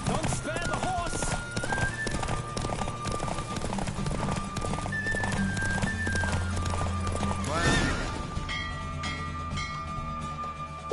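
A horse races at full gallop in Witcher 3, its hooves beating a fast clip-clop rhythm with intermittent neighing, set against a steady bed of game music and a short spoken line.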